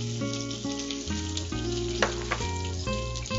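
Mustard seeds, chopped ginger, green chillies and curry leaves crackle and sizzle in hot oil for mango rice, a loud close fry with occasional sharp pops over a steady hiss.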